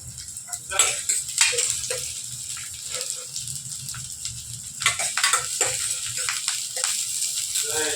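Onions sautéing in a steel pan with sizzling hiss and scraping stirs, the spatula clinking against the metal at intervals.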